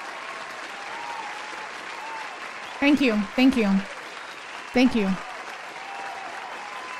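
Steady applause fills the background of a Final Fantasy 7 Rebirth minigame, with a continuous wash of clapping throughout and a voice speaking briefly over it.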